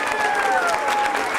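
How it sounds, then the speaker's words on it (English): Children in an audience at a magic show clap their hands in a brief, steady burst, with high young voices calling out over the clapping. "Oh, he wants you to clap your hands."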